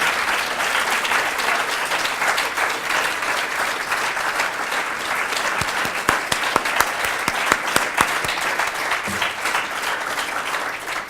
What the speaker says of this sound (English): I think Dasia deserves a big round of applause for her magnificent talk.